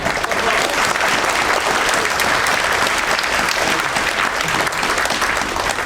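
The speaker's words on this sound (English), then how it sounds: "Give them a round of applause." An audience at a TMNT convention panel claps in sustained, dense applause, loud and steady throughout without a break.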